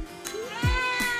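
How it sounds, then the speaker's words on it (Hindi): A cat meows a few times in a short, rising and falling call, heard at moderate distance in the background of a village setting. "ये बिल्ली की आवाज़ सुन सकते हो पीछे"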